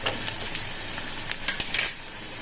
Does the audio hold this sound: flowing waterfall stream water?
no